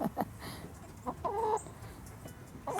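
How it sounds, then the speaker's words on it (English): A backyard chicken clucks nearby, making short scattered clucks and one drawn-out squawking call in a quiet setting. "Chicken, chicken, chicken."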